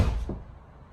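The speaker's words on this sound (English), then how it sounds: "but you also get that luxury door closing sound." A Tesla Model Y door closes with a soft, deep luxury thump, one close muffled hit that fades quickly into quiet.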